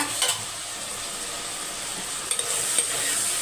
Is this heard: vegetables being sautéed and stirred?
yes